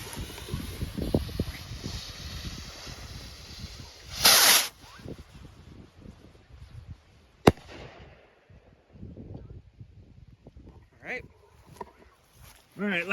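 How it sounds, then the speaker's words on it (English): Phantom Flower and Willow firework rocket going up with a sharp loud crack and hissing burst, followed by fainter crackling and pops outdoors, with some voices talking in the background. "last one from the Flower and Willow Rocket Pack by Phantom"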